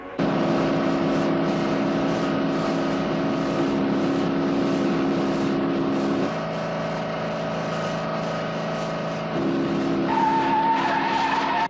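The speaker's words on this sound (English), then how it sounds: "And now the two cars move out of sight as they come into the difficult cliff stretch." Race cars roar at full throttle through a difficult cliff stretch of road, a loud, steady engine drone with shifting pitch that jumps higher near the end, with no talk over it.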